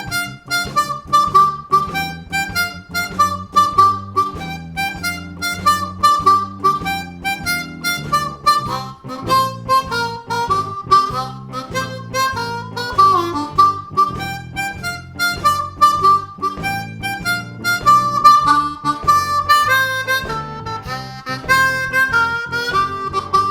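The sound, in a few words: harmonica playing a descending box shuffle 12-bar blues bass line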